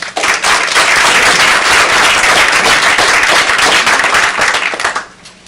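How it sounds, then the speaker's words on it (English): Sustained, dense applause fills a school board meeting room, loud and steady for about five seconds before tapering off sharply at the end. "Let's give them some applause."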